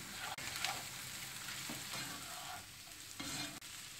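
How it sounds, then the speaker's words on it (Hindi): Poha is stirred and mixed in a pan on the stove, making a quiet, continuous scraping and light sizzle with a few sharper clinks of the spoon. "अब हम इन सब चीज़ों को अच्छे से"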